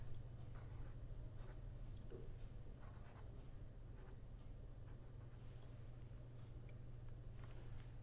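Pen or chalk writing an equation by hand, faint scratchy strokes in short repeated bursts over a steady low electrical hum and hiss, with no talking.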